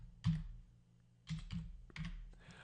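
Keys clack on a computer keyboard in a few quiet, uneven bursts, close and soft with pauses between them and no voices.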